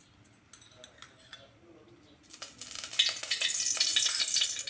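Oil starts sizzling loudly as vegetables hit a hot pan for mor kuzhambu, a bright crackling hiss that swells and holds after a few quiet clinks.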